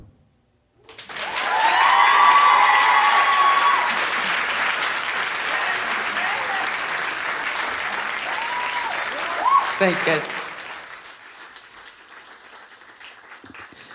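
A concert audience at a Storyteller performance bursts into loud cheering and applause with whoops and screams, swelling fast then tapering off; someone briefly speaks near the end as the noise fades.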